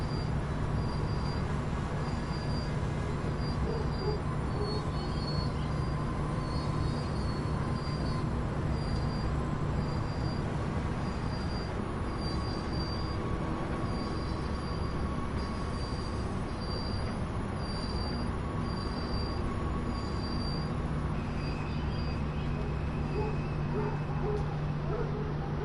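A Class 66 diesel locomotive in a train simulation game hums steadily and quietly beneath continuous rail rumble, with a faint repeating high tone and a low engine drone persisting throughout.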